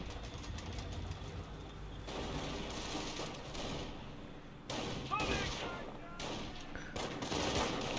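Grenadiers fire on riflemen in a Company of Heroes battle, quiet distant rifle and machine-gun bursts crackling over engine rumble and scattered thuds, with faint talk underneath.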